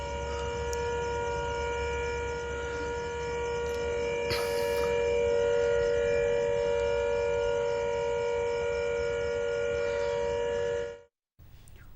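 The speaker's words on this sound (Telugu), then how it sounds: "మరోసారి సైరన్ శబ్దాలు రావడంతో ప్రజలు భయాందోళనకు గురవుతున్నారు" A civil defence air raid siren wails steadily in Srinagar during a ceasefire violation, a sustained loud tone over background hum that holds for about eleven seconds and then cuts off abruptly.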